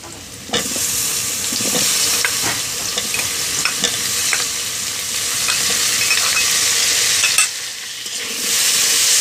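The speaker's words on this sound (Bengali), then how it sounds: "এখন এটাকে 2 মিনিট ধরে ভাজতে হবে আলুটাকে।" Potatoes fry with onions in a pan, a steady loud sizzle punctuated by repeated clinks and scrapes of stirring, with a brief drop and then a louder surge of sizzling near the end.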